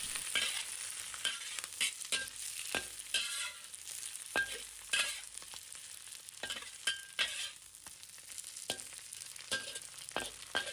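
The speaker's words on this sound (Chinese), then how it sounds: "把之前煎好的荷包蛋小心翼翼地回锅，让每一个鸡蛋都能均匀地裹上酱汁" Fried eggs go back into a pan of sauce, with soft, quiet sizzling and repeated scraping stirs at an uneven rhythm and no voices.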